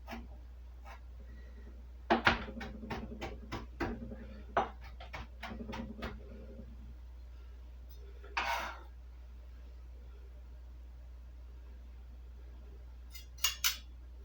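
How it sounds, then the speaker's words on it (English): A knife chops tightly rolled garden greens on a cutting board in a quick run of crisp, evenly spaced taps, then a few isolated cuts, close and fairly quiet. "Just roll that in a little ball, nice tight ball. And just start chopping."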